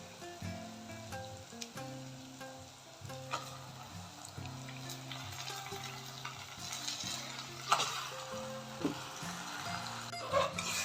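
Mutton frying in a gravy pan with masala spices, a steady soft sizzle under repeated scraping and stirring strokes of a utensil against the pan, fairly quiet and close.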